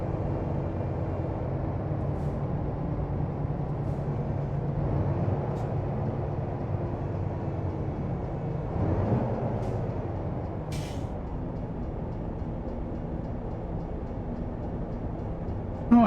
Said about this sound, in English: And now there's a train going through town.